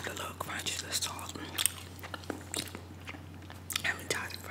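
Close, quiet chewing of a Little Caesars pretzel cheese pizza with salted crust, soft irregular bites and crunches over a low steady hum, with faint mouth sounds and breathy whispers in between.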